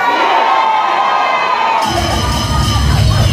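A church congregation shouts together, a loud, dense crowd roar of voices and whoops that swells midway into a fuller, heavier burst and carries on to the end.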